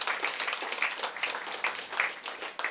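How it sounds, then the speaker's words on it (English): An audience claps through a senior living inauguration ceremony, dense, steady applause from many hands, close and lively, with no voices over it. "Please give a round of applause to this most powerful."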